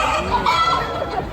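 A chicken clucks steadily and close by, a continuous stream of short throaty calls.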